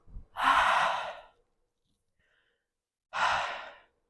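Deep breathing during a workout cooldown: two long, close exhalations like heavy sighs separated by a quiet pause, with no talking.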